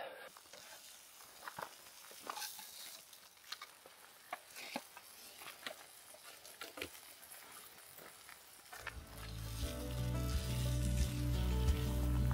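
Eggs and bacon frying in a pan at a campsite in Spain, a soft crackling sizzle with scattered pops that swells into a louder, steadier hiss toward the end.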